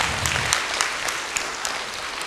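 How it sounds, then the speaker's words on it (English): A crowd at a Republic Day celebration on a health-city campus claps for a girl, dense continuous applause filling the room at an even, fairly loud level. "Give her a round of applause,"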